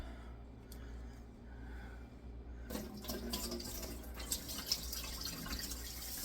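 Cold tap water runs steadily over potatoes being rinsed in a kitchen sink, starting as a faint trickle and then swelling to a fuller, louder splashing flow with small clattering bursts.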